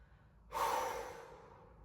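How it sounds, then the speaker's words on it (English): A single audible exhale from a person holding a floor-based Pilates twist stretch, a soft breathy release that starts abruptly, swells briefly and fades slowly, close to the microphone. "Just breathe"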